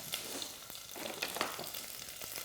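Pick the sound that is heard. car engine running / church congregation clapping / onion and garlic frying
onion and garlic frying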